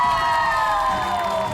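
A crowd of supporters cheers and shouts continuously at a televised Indonesian cooking competition, a loud, sustained wash of voices filling the whole stretch without pause.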